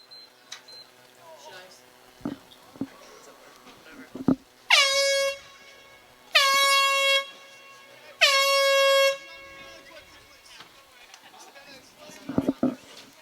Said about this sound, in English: that shot didn't quite go as planned, and the foghorn blows